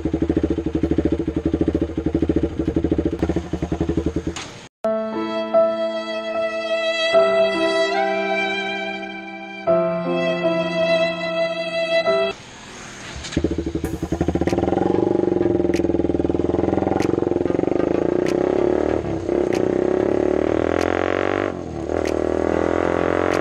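A Bajaj Pulsar RS 200 motorcycle idles with a steady engine drone, then a long musical stretch of sustained tones interrupts before the engine returns, revving and pulling away loudly with rising and falling throttle.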